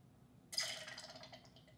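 Clean filtered water from a LifeStraw Family filter starts to trickle and drip, a sudden soft splash that settles into a faint continuing patter over quiet background hum.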